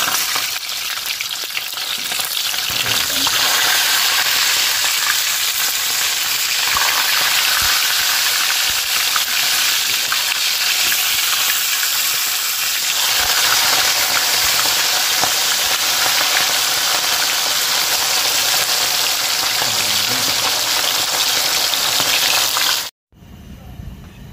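A loud, steady sizzling bubble of food cooking in a pot, a continuous hiss with occasional stirring, cutting off abruptly near the end.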